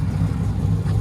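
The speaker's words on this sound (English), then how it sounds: "That idle sounds good." A 2010 Dodge Charger V8 with a straight-piped exhaust idles in a steady, deep low rumble that holds close and loud without a break.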